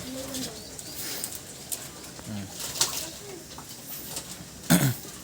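Pigeons coo softly in the background of a loft during bathing time, among low murmurs, with a few faint metallic clinks and a brief louder rustle near the end.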